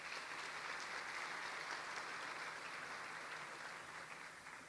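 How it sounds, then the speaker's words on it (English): Continuous applause from an awards-ceremony audience honouring science prize winners, a dense wash of many hands, moderately distant and even throughout. "Let's give them a round of applause."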